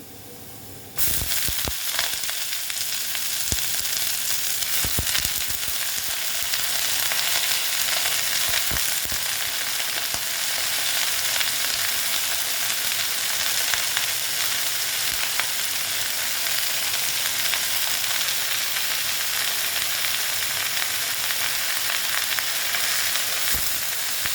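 Red amaranth greens fry in a pan with onions and two chillies, a loud, steady broadband sizzle that starts abruptly and runs unbroken throughout, with occasional stirring clicks and scrapes.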